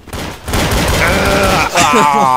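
Rapid gunfire crackles in Counter-Strike: Source, several shots bursting close and loud in quick succession, with a voice talking over part of it.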